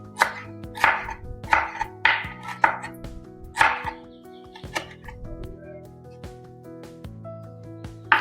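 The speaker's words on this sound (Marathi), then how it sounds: "अशा प्रकारे छोटे छोटे पायनॅपल कट करून घेऊया." Knife chopping fresh pineapple into small pieces on a board, a run of sharp close thuds in an uneven rhythm, busy at first and then sparser, with a faint background hum and no talk.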